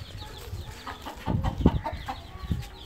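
An Aseel rooster clucks and grumbles in short, uneven bursts close by, with faint background noise and no other voices.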